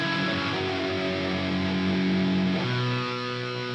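A sustained, gritty distorted tone drones throughout, holding steady before shifting pitch near the end.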